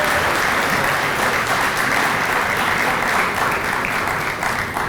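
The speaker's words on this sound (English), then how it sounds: "Can we get the first round of applause of the evening for the Hansens, please," Applause from an awards gala audience at a Hall of Fame induction ceremony, a dense, steady roar of clapping from a large crowd that holds at full strength throughout.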